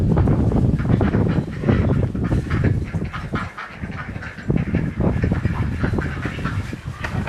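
A loud flock of ducks on a ranch quacking and honking continuously, many birds calling at once close by.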